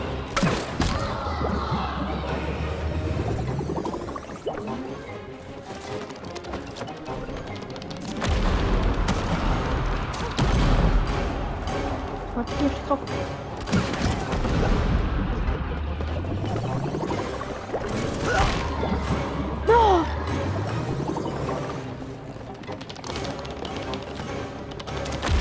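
Gunfire and heavy explosions in the co-op video game It Takes Two during a boss fight against a beetle, with repeated deep thuds and booming blasts continuing through the whole stretch over dense game music and effects.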